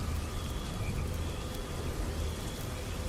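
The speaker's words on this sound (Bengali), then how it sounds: "বাইরে তখনও ঝমঝম করে বৃষ্টি পড়ছে" Heavy rain pours steadily outside at night, a dense, even hiss with low rumbling underneath that holds constant throughout with no voices.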